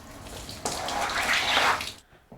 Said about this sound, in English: The last step is to rinse it off thoroughly with water.